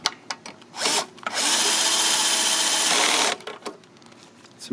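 A power drill drives screws to refit the boot on a Briggs and Stratton 10T800 lawn mower engine, with short bursts followed by one sustained whir of about two seconds, close and loud, and small handling clicks around it.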